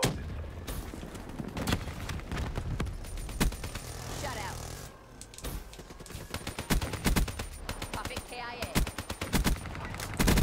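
Rapid bursts of Man-O-War rifle gunfire from the video game Call of Duty Black Ops 3 crack in quick, loud volleys, broken by short pauses between strings of shots.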